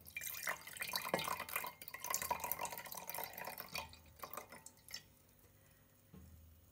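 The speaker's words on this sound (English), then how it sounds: "break the egg into a measuring jug and then add enough milk so that it reaches about 150 mils of liquid" Milk is poured into a measuring jug holding a broken egg, a close liquid splash and trickle with a few clinks, then thinning to small drips and a pause.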